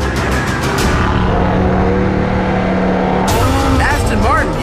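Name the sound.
Aston Martin Vantage and Italian SUV in a drag race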